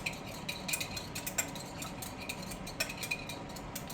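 Chopsticks beat eggs for omurice, giving quick, irregular clicks and taps against a bowl. The sound is close but fairly quiet.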